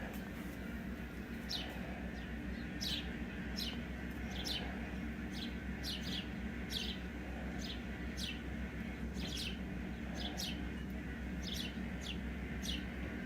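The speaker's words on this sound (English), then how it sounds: "It's a bird festival out there" Many birds chirping outdoors in a tree on a winter day, a lively chorus of sharp, repeated high tweets scattered near and far over a constant low hum of background noise.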